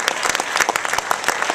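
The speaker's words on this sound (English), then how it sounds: "Everyone should give a round of applause to Calixto and New York International Latino" Audience applause at a Q&A session of the 2012 New York International Latino Film Festival: dense, steady clapping from a crowd, loud and close, filling the whole short stretch.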